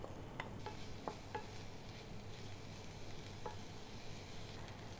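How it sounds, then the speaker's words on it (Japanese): Finely chopped onions frying in heated salad oil in a frying pan, a steady soft sizzle with a few light stirring clicks, quiet and continuous with no talking. "フライパンにサラダ油を温めて、玉ねぎのみじん切りを炒めていきます"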